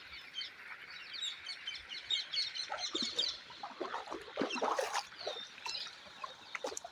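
Morning birdsong over farmland with castor crops, several birds chirping and calling in bursts, fairly close and lively, with no talking over them.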